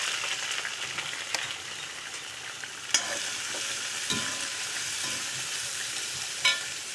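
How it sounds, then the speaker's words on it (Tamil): Onion, fennel seeds and curry leaves fry in hot oil in a pan for an egg masala, giving a steady close sizzle with occasional sharp clicks and knocks of stirring, no talking. "சோம்பு போட்டுடலாம் வெங்காயம் கருவேப்பிலையும் போட்டுருவோம்"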